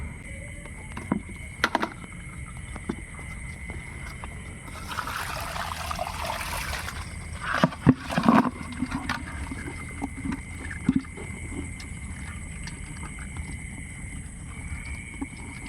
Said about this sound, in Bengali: চলুন এগুলো আগে জল থেকে ছেঁকে নেই।